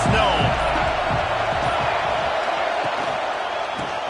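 Football stadium crowd roaring continuously, a dense loud wash of cheering with scattered thumps and a voice talking over it.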